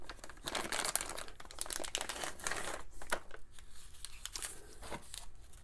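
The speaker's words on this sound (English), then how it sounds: "let's get the radio out of its plastic package first" A TYT TH-350 handheld radio being pulled from its plastic package, close crinkling and crackling of stiff plastic in busy, uneven bursts with occasional tearing, no talk.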